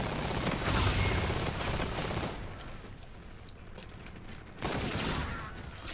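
Gunfire in a first-person shooter Gun Game match, rapid bursts of shots at fairly low level, a dense spell at the start and another near the end.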